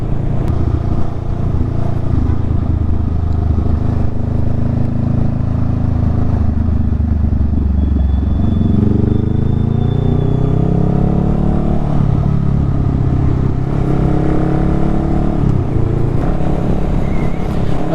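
A 2019 Honda Rebel 500 motorcycle pulling hard up a hill, its engine note rising steadily through the gears, loud and close with wind rush underneath and a brief easing partway through.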